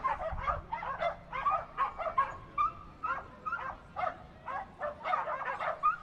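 Dogs barking at a dog race at Canterbury Park: repeated excited barks, yips and whimpers, fairly close and loud, in quick bursts with short pauses between them.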